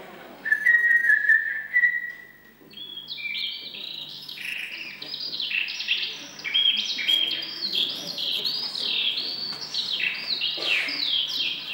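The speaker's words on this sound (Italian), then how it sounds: "di farle sentire il canto meraviglioso di questi due uccellini" Two small birds sing sweetly in continuous overlapping whistled chirps and trills, with a steady background hum and no talking.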